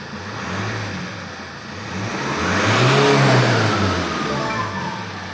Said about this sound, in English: Starting vehicle. Revolutions required.